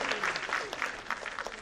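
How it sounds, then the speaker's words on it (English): Brief burst of audience applause for a singer at a college talent show finale, a few seconds of uneven clapping with voices mixed in. "let's give her a round of applause if she was good."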